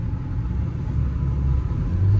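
A Mahindra Scorpio N 4x4 engine pulling in second gear low range: a steady, deep, close rumble that holds at an even level with a slight rise near the end, with no voices.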